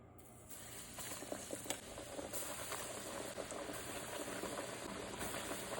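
Bologna slices frying in a pan on the stove, a steady crackling sizzle that swells after a quieter start and continues evenly, close but soft.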